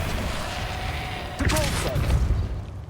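A spell blast in a wizardry video game lands as a sudden booming burst with a low thump and a brief rising whoosh, set against a steady game backdrop.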